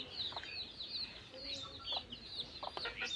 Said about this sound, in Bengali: এই যে দেশি মুরগির কয়েকটা বাচ্চা আছে ওদের চাল খেতে দিয়েছি